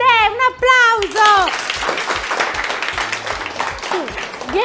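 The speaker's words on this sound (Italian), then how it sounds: "Un applauso." A studio audience at an Italian TV game show bursts into applause right after a brief voice. Dense clapping then carries on, with some talk and a voice over it.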